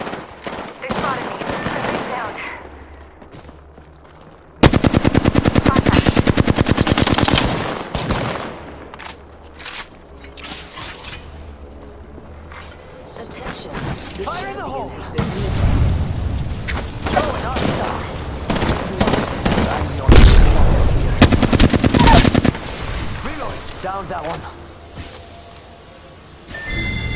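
A chaotic firefight in the video game Apex Legends: loud, dense bursts of automatic gunfire and heavy impacts, stopping and starting in rapid clusters, with brief stretches of quieter action between the volleys.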